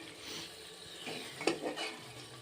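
Masala for a pressure-cooker mutton curry fries in oil with a splash of water, giving a soft steady sizzle under a few scraping stirs of a spoon in the pot, alone and close.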